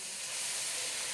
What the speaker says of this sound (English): now once we get all that hot, we're gonna move everything to the side so we can pour our sauce right in the middle